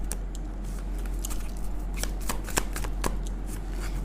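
Tarot cards being shuffled by hand at close range, a steady dense riffle of papery flicks and slaps with a few sharper snaps, no talking.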